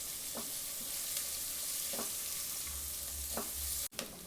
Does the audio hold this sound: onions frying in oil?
yes